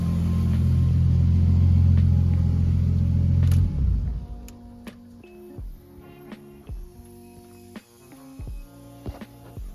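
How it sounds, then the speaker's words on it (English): A Nissan R32 GTS4 engine with a spun bearing runs with a loud, heavy rumble for about three and a half seconds, then cuts out, leaving scattered ticks and clinks as it falls quiet. "That's the last this motor will run."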